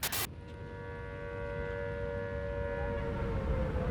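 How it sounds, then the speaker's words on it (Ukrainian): An air raid alert siren in Ukraine sounding as a steady, sustained wail that holds and slowly swells in loudness, heard on its own after a brief sharp noise at the start. "Громадяни оголошена повітряна тривога"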